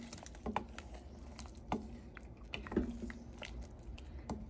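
Spoon stirring bottle gourd curry in a pan, with scattered soft clicks and scrapes at an irregular pace, faint and close, over a low steady background hum, with no talking.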